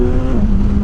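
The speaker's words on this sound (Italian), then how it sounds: "Sentite, è veramente un gran bel motore, rumore di scarico fantastico con il riding mode dynamic" BMW S1000XR four-cylinder motorcycle engine accelerating hard in first gear with short gearing in dynamic riding mode, a loud, steady, close exhaust note with a rising tone throughout the short burst.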